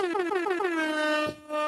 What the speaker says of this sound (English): Had to do the air horn.